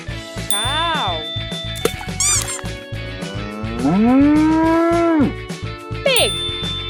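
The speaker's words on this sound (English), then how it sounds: "Cow." A long, loud cow moo swells and holds for over a second over rhythmic background music, followed by a short squeaky chime, in a children's animal-naming sequence with toy animals.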